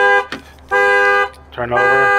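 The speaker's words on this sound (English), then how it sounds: "the alarm works, but it shouldn't have gone off" A 2003 Land Rover Freelander's car alarm sounds in loud harmonic bursts that stop and restart, sharing the moment with a brief spoken phrase.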